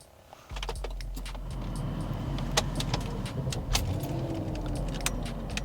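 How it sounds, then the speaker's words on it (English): A BMW X5 E53 4.6is V8 cranks and fires up with a quick starter whir, then settles into a steady, close idle rumble, with light clicks and rattles over it. "Start her up, Dave."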